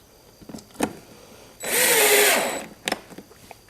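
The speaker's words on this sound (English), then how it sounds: "Now I'll put the pocket screws in." A power drill drives a pocket screw into wood while a cottage-style coffee table is restored: one loud, whirring burst of about a second, with small knocks and handling clicks before and after.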